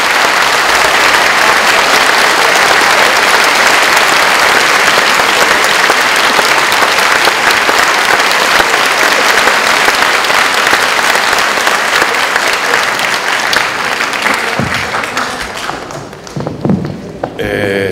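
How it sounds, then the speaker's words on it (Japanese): Loud, dense applause from a packed lecture-hall audience welcoming a speaker to the stage, sustained evenly before thinning into scattered claps and thumps at the end. "拍手を持って。"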